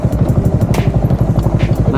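An old Kawasaki HD3 two-stroke motorcycle engine runs close by with a steady, rapid popping thrum and mechanical clatter, while a voice talks over it.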